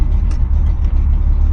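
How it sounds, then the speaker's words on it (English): A Chevy C10 with a 454 big-block V8 idles on a cold start with electric choke, a loud, close, steady low rumble throughout. "This is basically a cold start."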